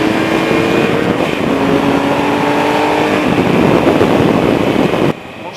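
A Triumph Explorer XC motorcycle engine pulls steadily under acceleration on the road, a loud, continuous drone with climbing pitch and heavy wind rush, cutting off abruptly near the end.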